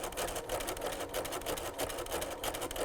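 A sewing machine runs continuously, zigzag stitching down over a bundle of top, bobbin and other threads to make a twisted thread tassel, with a fast, even mechanical whir and rhythmic needle chatter, close and loud.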